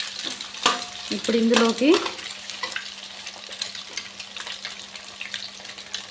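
Chicken fried rice stirred and roasted in a pan, with steady frying sizzle and scraping stir sounds near the start, then a softer continuing sizzle; a voice speaks briefly.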